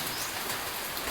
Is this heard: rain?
yes